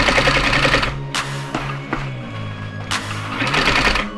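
A sewing machine stitches along a seam in quick rapid bursts of mechanical needle clatter. The runs stop and start with short pauses between them, and there is no talking.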